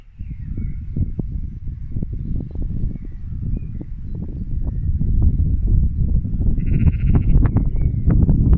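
Several sheep bleat close by in overlapping calls, their voices ragged and continuous against a busy farmyard rustle.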